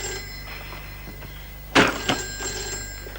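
An old-style telephone bell rings with a sharp metallic burst, then a second shorter jangle, over a steady background hum.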